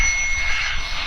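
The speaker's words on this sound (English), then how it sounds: "the bike computer has a pretty good bell to it, as you can hear" A bike computer sounds a single sustained electronic bell chime, clear and close, over steady wind and road noise during a bike ride on a trail.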